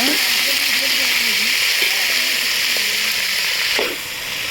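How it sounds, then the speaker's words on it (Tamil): Continuous bright hiss of potatoes sautéing in oil for a Tamil potato stir-fry, close and loud, with a faint voice murmuring underneath and a brief clink near the end. "சேர்த்து நல்லா வதக்கி எடுத்துக்கோங்க"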